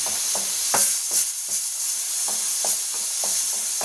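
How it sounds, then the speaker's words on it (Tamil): Onions sauté in a hot pan for a spicy Tamil-style chicken fry, with a constant sizzling hiss and regular scraping stirs roughly every half second. "நல்லா பச்சை வாசனை போகிற வரைக்கும் நம்ம நல்லா வதக்கிக்கலாம்"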